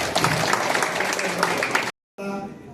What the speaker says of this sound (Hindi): समस्त ताली मारी स्वागत करवा।